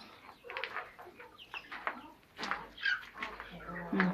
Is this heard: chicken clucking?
yes